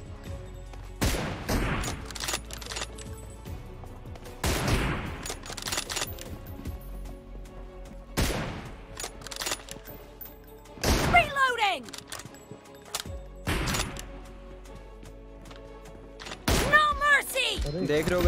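Sniper rifle shots from an M24 bolt-action rifle in a mobile shooter game, heard as several sharp loud cracks spaced a few seconds apart, each followed by a brief ringing tail, over a steady background bed.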